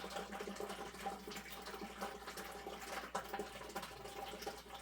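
Hot water from a bucket poured into a boiler for a cleanout, a steady quiet splashing and trickling stream running continuously with a faint hum beneath and no talking.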